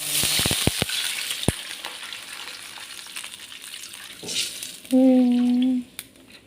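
Water is poured into a pan of fried, browned spices, hissing and sizzling briefly after earlier clatter of utensils, with a short tone near the end.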